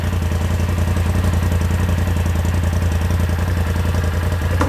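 A Polaris RZR XP Turbo side-by-side engine runs steadily at a low, even throttle, a loud continuous mechanical drone with faint clatter and no distinct rev peaks.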